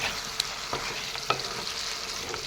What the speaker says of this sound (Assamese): এইখিনি মই এনেদৰে তলফৰ কৰি আকৌ লৰাই দি দিলোঁ।